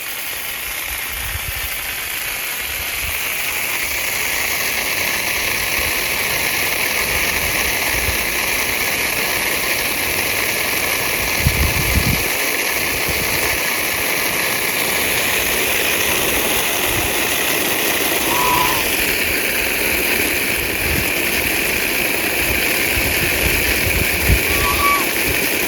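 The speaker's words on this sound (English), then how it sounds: "This is how you wash your emu." An emu gets washed with running water from a hose or tap, giving a steady, loud rushing spray with a constant hiss and faint mechanical hum that continues unbroken throughout.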